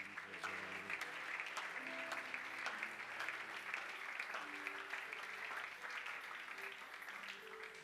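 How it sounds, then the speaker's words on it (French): A church congregation at a Sunday worship service in French applauds to acclaim the Lord, with steady, sustained clapping from many people in a reverberant hall and faint voices and music under it. "Et nous acclamons le Seigneur."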